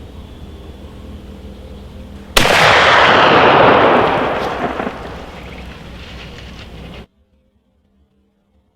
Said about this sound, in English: we just shot that hog